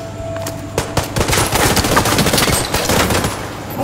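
Rapid automatic gunfire in a shooter video game with a sniper in play, dense bursts of loud shots under a steady background hum.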